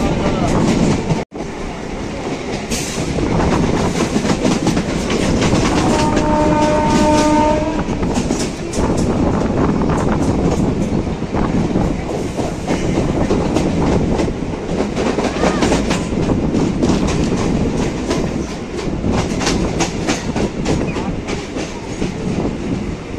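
A Sealdah–Ranaghat local train rumbles along continuously near Barrackpore, with rail clatter, a brief horn blast and a sharp bang early on, loud and close throughout.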